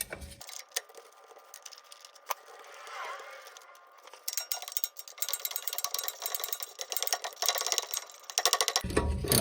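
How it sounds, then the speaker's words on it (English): A hand wrench loosens transmission mount bolts on a 1997 Mazda B2300 pickup with a manual M5OD gearbox, giving sharp metallic clicks and ratcheting ticks at close range, sparse at first and then busier and louder toward the end. "Now I'm just gonna use this wrench to undo them."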